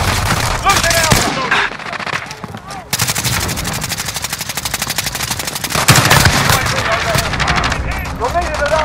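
Automatic gunfire in a first-person shooter match, dense rapid bursts of close, loud shots with brief pauses, alongside shouted in-game voice callouts.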